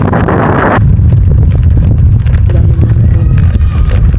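Strong wind gusting outdoors in the cold, a steady loud roar buffeting the microphone from start to finish, with a harsher rush of air in the opening moment.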